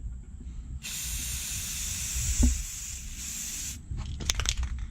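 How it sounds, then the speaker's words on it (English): Rust-Oleum crystal clear enamel sprays from an aerosol can onto a Honda CRX Si taillight in one steady, close hiss lasting about three seconds, then cuts off, followed by a few light clicks and handling sounds. "I'm gonna spray it with some clear. I'm using some Rust-Oleum crystal clear enamel."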